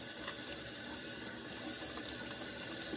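Tap water runs steadily from a bathroom faucet onto a soap bar in its package, a continuous close splashing hiss with no talk.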